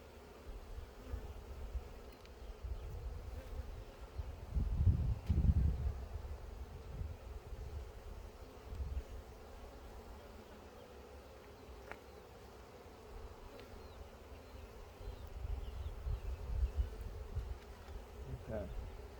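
Honeybees in a strong backyard hive drone in a low, steady buzz that swells around five seconds and again near the end, fairly faint and with no talking.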